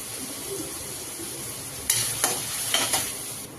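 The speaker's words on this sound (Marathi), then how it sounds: "थोडं लालसर होईपर्यंत आपण ह्याला फ्राय करूया कांद्याला. त्यातच आपण थोडे 2-3 हिरव्या मिरच्या टाकूया." Chopped onions and two or three green chillies sizzle steadily in a pan, softly at first, then joined by several sharp metallic stirring scrapes and taps close by.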